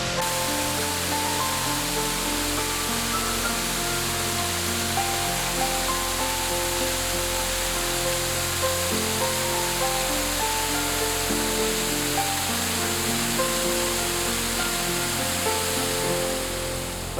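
Steady, loud rush of a waterfall on the Niagara escarpment in Hamilton during a winter hike, a dense unbroken roar that holds evenly for the whole stretch with no voices.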